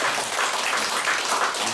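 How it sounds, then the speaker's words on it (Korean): An audience claps for two lecturers at the end of a Korean cultural-heritage lecture, giving a brief burst of steady, full-room applause. "이분들에게 박수 한번 쳐주시죠."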